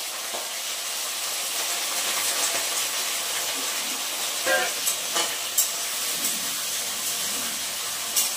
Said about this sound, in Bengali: তো এবার এগুলোকে সব ভেজে নেব।